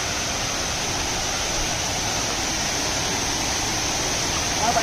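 Savadav waterfall at Kankavli pours in a loud, steady, broadband roar of rushing water that stays constant throughout.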